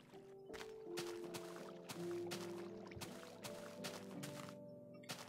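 Water being placed to make an infinite spring in a farming video game, heard as a run of splashy, pouring bursts repeating several times over layered in-game music.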